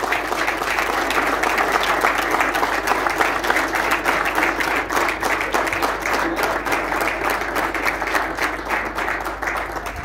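Steady applause from the crowd at an endurance racing cup awards ceremony, dense continuous clapping holding at an even level for about ten seconds.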